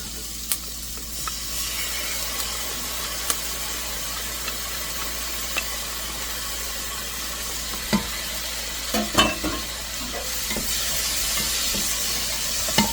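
Onions and garlic fry in a pan with a steady close sizzle, broken by a few scraping stirs and clicks of a utensil.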